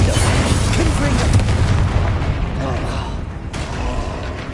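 Confringo blasting spell explosions in a Hogwarts video game, a loud continuous barrage of booming blasts and crackling bursts that fill the whole clip, with a voice speaking over them.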